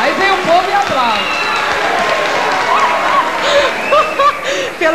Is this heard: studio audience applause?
yes